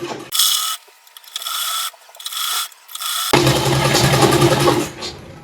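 A sewing machine double-stitches the seam of a suit sleeve in several short mechanical bursts with pauses between, then one longer, denser run, close and fairly loud.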